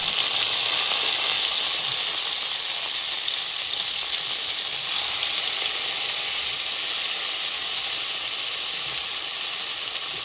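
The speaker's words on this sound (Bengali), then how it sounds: "কড়াইয়ের গরম সরিষার তেলে কিছু গোটা জিরে ফোড়ন দিয়ে তাতে মেখে রাখা ইলিশ মাছগুলি ভালোভাবে ভাজাতে হবে।" Hilsa fish fry in hot mustard oil tempered with whole cumin seeds in a kadai. A loud, dense, unbroken sizzle runs close and constant for ten seconds, with no voices.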